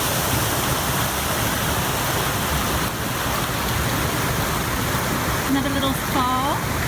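A small waterfall on a creek, a steady loud rush of falling water filling the whole clip, with a voice speaking briefly near the end.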